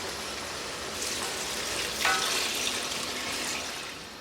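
Water poured onto rice in a pot while making chicken pulao, a steady splashing hiss that swells partway through and then settles, close and fairly quiet, with no talking.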